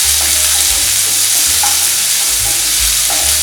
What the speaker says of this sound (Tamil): வெங்காயம், பச்சை மிளகாய். இந்த பொருள் மட்டும்தான் வதக்கணும்.